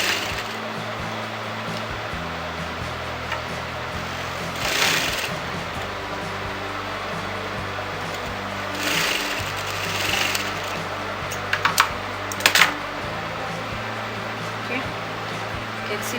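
A sewing machine stitching a dart on a blouse runs in a steady, stepped mechanical whir that changes pace in short runs, set against a constant background hiss with a few brief louder bursts.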